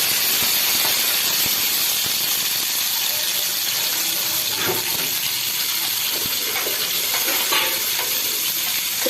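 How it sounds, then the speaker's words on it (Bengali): Chillies and garlic fry in a hot pan, giving a steady, dense sizzle and hiss throughout with occasional crackles and stirring scrapes, close and fairly loud. "লঙ্কা ভেজে নিচ্ছি, এই রসুনও দিলাম,"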